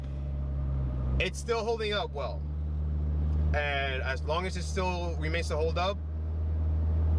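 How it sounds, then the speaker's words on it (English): A car engine idles steadily in the background, a low constant hum that runs beneath someone talking throughout. "You guys can probably hear my car right now"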